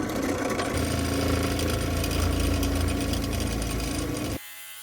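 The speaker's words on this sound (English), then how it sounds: "the plan with this is using the drill press so I can get a consistent depth" A drill press runs in a home workshop, its steady motor whir and drilling noise continuous and close before cutting off abruptly near the end.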